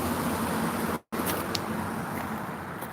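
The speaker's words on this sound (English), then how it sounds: "A lot of cars are going by." Road traffic going by outside, a steady wash of tire and engine noise with a brief cut partway through and faint higher clicks over the hum.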